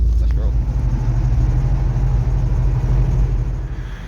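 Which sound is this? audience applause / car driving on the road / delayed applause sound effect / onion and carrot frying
car driving on the road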